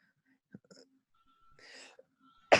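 A single sharp sneeze bursts out at the end after a few quiet breaths and small sounds, close and sudden.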